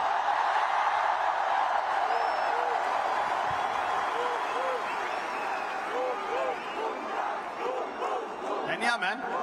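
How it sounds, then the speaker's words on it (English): A packed Wankhede Stadium crowd applauds and cheers fast bowler Jasprit Bumrah after a T20 World Cup game, a sustained distant roar of claps and whoops that swells with shouts near the end. "A huge round of applause to Jasprit Bumrah"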